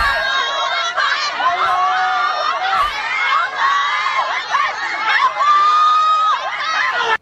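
A crowd gathered at a building facing government demolition shouts loudly and continuously, many overlapping voices rising and wavering close by.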